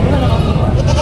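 Goats bleat amid a busy livestock market at Padre Garcia, a brief bleat under a dense crowd of voices and close talking.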